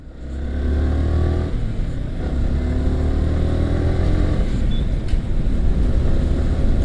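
A red Yamaha R15 v4 motorcycle being ridden, its engine running continuously with a loud, steady drone and shifting pitch, close and without talk.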